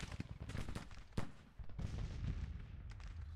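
Artillery fires in a Civil War battle video game, with several deep booming shots and crackling blasts in irregular bursts at moderate distance.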